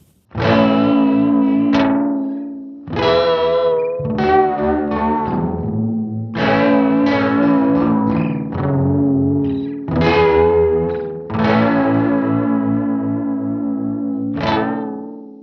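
An electric guitar runs through a Hologram Microcosm multidelay pedal set to high repeats and a fast subdivision, with pitch modulation. Loud, sustained chords ring out in repeated swells with smeared, wobbling echoes trailing each one.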